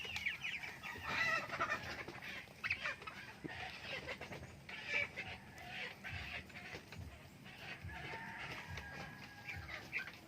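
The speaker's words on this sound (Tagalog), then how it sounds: "ito naman yung ating mga bagong sisiw" Broiler chickens and young chicks on a poultry farm cluck and peep softly in a continuous busy chorus, with occasional louder calls standing out over the quiet flock.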